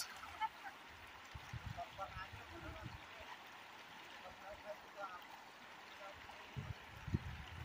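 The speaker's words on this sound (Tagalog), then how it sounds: "Malakas yung agos." Strong current of a river in the provinces rushing steadily, with a continuous mid-range wash of flowing water and occasional low thumps and splashes near the microphone; faint voices are present in the background.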